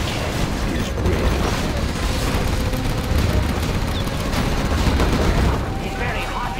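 Dense, continuous game combat roars from a Gatling cannon in C&C Zero Hour, with rapid firing and explosions blended into a loud, unbroken wall of noise.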